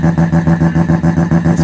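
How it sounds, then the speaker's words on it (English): A Mazda RX2 with a 300-horsepower peripheral-port rotary engine revs loudly and close in a rapid, regular pulsing rhythm, blipping the throttle in a workshop setting. "RX2 is going to do a mean fucking burnout"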